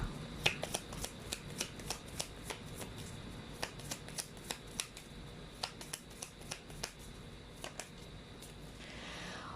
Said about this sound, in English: let's actually pull up another card to gather more information here.